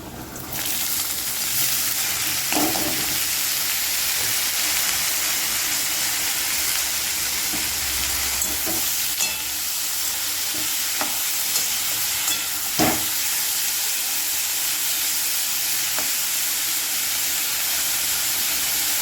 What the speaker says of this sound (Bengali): এখন আমি দিয়ে দেব বিনস আর আলুটা।